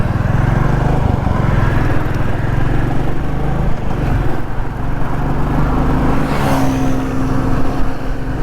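Royal Enfield Classic Stealth Black motorcycle riding on a highway, engine thumping steadily close by with continuous wind and road rumble, no talk.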